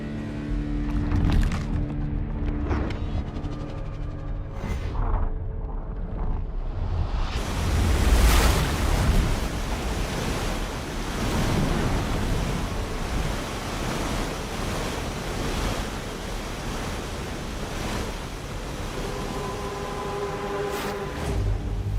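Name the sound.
strong fast-flowing floodwater rushing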